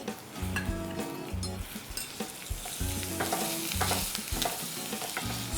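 Mustard seeds, cumin seeds, cinnamon, cloves, asafetida, green chilies and curry leaves fry in hot oil for an Indian dal, giving a steady close sizzle with occasional stirring scrapes under background music.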